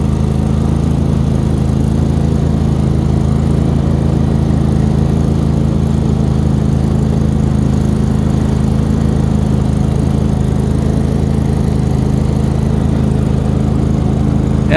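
Steady, loud, close engine drone of a snow blower running while clearing snow on a gravel driveway, holding an unbroken low-pitched rumble throughout with no talk.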